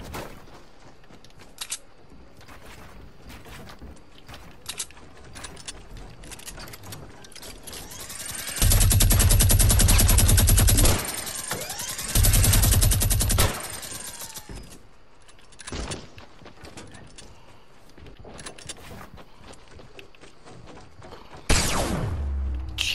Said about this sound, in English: He shot me with the fucking hand cannon.